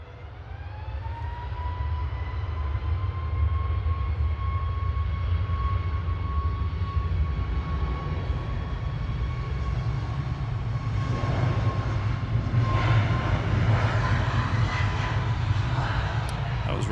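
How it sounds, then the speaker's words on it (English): A Ryanair jet airliner departs Manchester Airport for Cork. A steady, high engine whine rides over a heavy low rumble, and the sound grows louder and fuller toward the end as the aircraft passes. "Ryanair off to Cork, just a zipping past"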